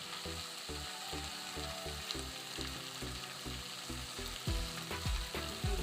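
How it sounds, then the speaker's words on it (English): Pork frying with spices and paprika for a wet fry gives a quiet, steady sizzle, with a rhythmic low hum and a few louder stirring knocks near the end. "We now add our spices so that they get cooked."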